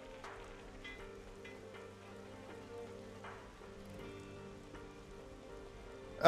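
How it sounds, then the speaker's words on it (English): Steady rainfall in the desert of the video game Xenoblade Chronicles 3, a continuous even patter over a low hum of game music, with a brief louder burst at the very end. "now that the rain has come to the desert"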